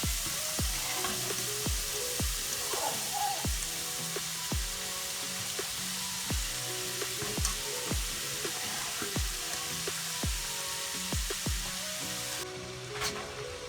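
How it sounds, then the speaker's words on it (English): Pre-cooked rice frying on top of vegetables in a pan for fried rice, a steady close sizzle with regular scraping stirs of a utensil throughout, no voices. "now I'm going to add the rice that already pre-cooked on top of the vegetables."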